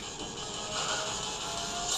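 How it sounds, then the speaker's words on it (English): A car crash in a mobile racing video game played on a Sony Xperia T2 Ultra, heard as a brief noisy crunching burst over steady game engine roar with no talk. "Oops, I crashed."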